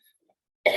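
A single short cough bursts out near the end after a moment of near silence, close and fairly loud.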